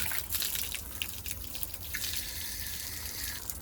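Water from a tap pours and splashes steadily while a young child's legs are washed, a continuous close trickle with faint drips and no talking.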